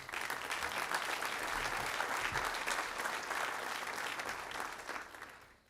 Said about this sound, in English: So please give our senior winter athletes a round of applause.